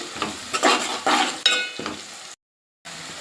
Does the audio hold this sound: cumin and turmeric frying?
yes